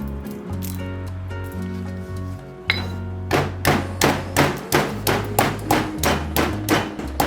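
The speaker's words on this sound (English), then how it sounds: "Crushed ginger and cardamom pods." Ginger and cardamom pods being crushed for a vegan almond-milk chai, heard as a run of about ten sharp, regular pounding strikes over steady background music, close and fairly loud.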